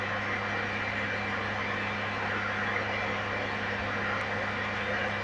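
A PlayStation console running close by gives off a steady, broadband whooshing hum with a low tonal drone, like a vacuum cleaner, constant and unbroken with no voices.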